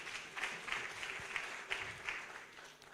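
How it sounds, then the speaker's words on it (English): Faint, distant audience applause at an enterprise development event, a soft patter of clapping with a few louder individual claps standing out over nearly three seconds. "Let us give her another round of applause."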